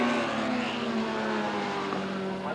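Racing motorcycles at the 1983 Bathurst Western Underwriters 1000 scream down Conrod Straight at high speed, a loud continuous high-revving engine roar sustained throughout.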